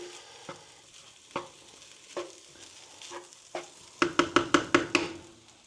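Fish warming through in a curry sauce in a pan for a budget kedgeree: spaced spoon scrapes and stirs over a soft simmer, speeding into a quick run of rhythmic strokes near the end.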